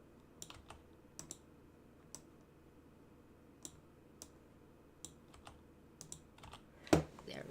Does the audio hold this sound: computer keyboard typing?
yes